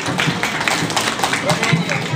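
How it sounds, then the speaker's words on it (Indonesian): An audience of children at a community gathering claps in a dense, continuous burst of many hands, loud and close throughout the short stretch. "Oke, tepuk tangan dong buat cimutnya itu"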